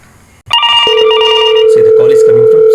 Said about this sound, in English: See, the call is coming from Sujesh.